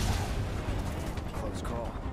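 Rapid gunfire in the Final Fantasy 7 Remake video game, a dense, continuous barrage of shots blended with a busy game soundscape and voices throughout.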